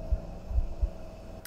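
A low, muffled heartbeat throbs several times in The Excavation of Hob's Barrow over a steady background hum, with a brief brighter sound at the very end.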